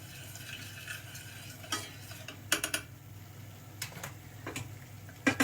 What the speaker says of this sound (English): So we're just gonna mix that together.